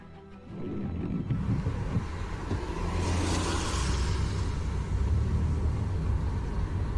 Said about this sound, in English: The car in front drives very slowly before once again slamming on its brakes.